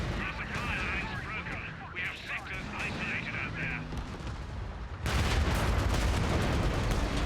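Artillery fires in the video game Company of Heroes 3 with a steady rumble of battle, then a sudden heavy, loud barrage takes over near the end, while voices are heard in the game.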